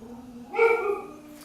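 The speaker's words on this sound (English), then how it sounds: "That's my dog." A pet dog gives a short, thin whine that rises into a brief, tonal whimpering yelp, close and fairly quiet, lasting under a second with no talking.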